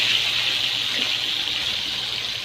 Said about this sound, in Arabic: هقوم نازلة بقى بشوية خل كده